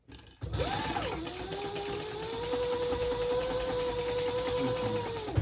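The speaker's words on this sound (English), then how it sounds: "I'm going to do a nice big seam." A sewing machine runs steadily through one long seam on a crossbody bag, a continuous whirring hum that starts abruptly and holds nearly constant for about five seconds, close and fairly loud.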